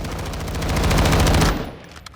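Rapid automatic fire from a VHS 2 rifle in Call of Duty: Modern Warfare, a loud continuous burst for about a second and a half that cuts off sharply, followed by a faint tail and a small click.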